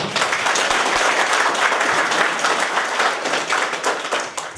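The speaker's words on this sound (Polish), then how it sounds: "Brawa dla obu panów." An audience applauds two folk musicians, a singer and a drummer, at an autumn song gathering marking a band's fifteenth anniversary: dense, steady clapping from many hands, loud and sustained, easing slightly at the end.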